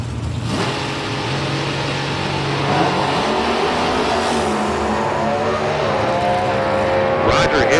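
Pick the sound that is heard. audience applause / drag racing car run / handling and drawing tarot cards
drag racing car run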